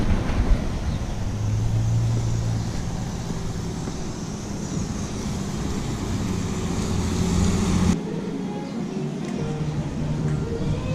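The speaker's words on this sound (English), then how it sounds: "There's an Epcot bus coming in." An Epcot shuttle bus at Walt Disney World pulls in, a low engine rumble and road noise that grows and then drops off abruptly as it stops, continuing faintly at idle.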